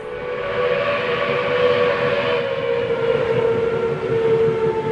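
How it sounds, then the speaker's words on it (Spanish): Steam locomotive whistles and trains on the rails, heard as a loud, sustained tonal whistle held steadily over a continuous rumbling rail noise for the full stretch, with no voices. "Las locomotoras silbaban y los durmientes de las vías se estremecían."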